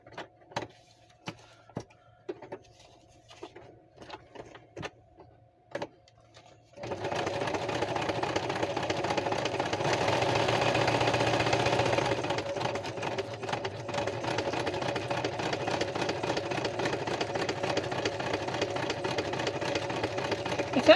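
A freshly oiled sewing machine stitches a junk mail journal, first with a few separate single stitches, then a loud, steady mechanical whir of continuous stitching that runs to the end.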